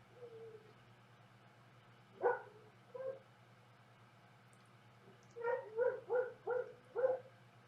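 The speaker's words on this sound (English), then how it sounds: "my dogs are barking" Dogs bark from a short distance, one early bark and a couple of brief ones, then a quick run of five barks in a row, with a low steady hum underneath.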